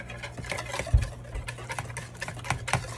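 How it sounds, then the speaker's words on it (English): A whisk works dry ingredients into wet batter in a bowl, making close, quick, rhythmic scraping and tapping that runs steadily through the clip with no talking. "I'll add a little bit, and then you want to whisk it and mix it in"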